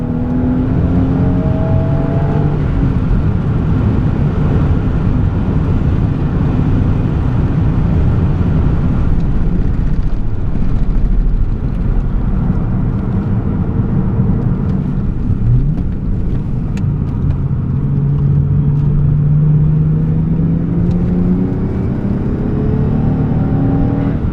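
A 1994 Toyota Mark 2 Tourer V (JZX90) lapping the Suzuka circuit on a track day, a loud in-car engine roar rising and falling through gear changes, with tire scrub under hard cornering.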